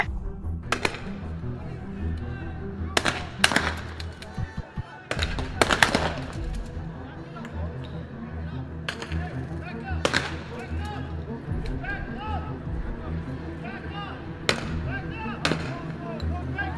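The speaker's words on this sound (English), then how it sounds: "suddenly they started shooting" Police gunfire during a street confrontation: several sharp, loud shots crack out at irregular intervals over a busy background of crowd noise and voices.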